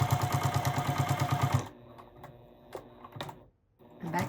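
A sewing machine stitches quilt binding on a 9-patch quilted throw, a fast steady mechanical chatter for about a second and a half, then stops and leaves faint handling clicks and rustles.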